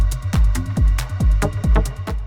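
Electronic synth mix of a Syncussion hi-hat, a lead and a V6 pad run through heavy effects, playing as a loud rhythmic loop with repeated sharp percussive hits and sustained tones, no talking.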